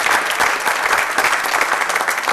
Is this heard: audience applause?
yes